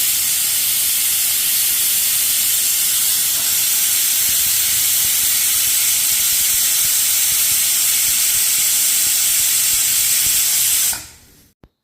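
A pressure cooker of tomato and vegetable soup vents a loud, steady steam hiss for about eleven seconds, close up, then the hiss cuts off abruptly into silence.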